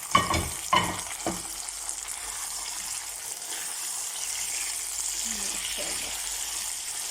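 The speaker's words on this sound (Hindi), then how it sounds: "टमाटर और हरी मिर्ची इसके अंदर ऐड करेंगे जी।" Tomatoes and green chillies frying in a pan, with a few clatters of stirring at the start and then a steady, even sizzle that continues to the end.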